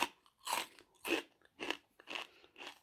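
Crisp sugar snap pea vegetable crisps are bitten and chewed close up, giving five distinct crunchy bites in a steady rhythm, fairly quiet with no talking.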